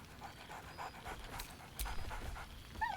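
A dog in Baldur's Gate 3 pants steadily and lets out a few soft whines, moderately close and fairly quiet, with no talking.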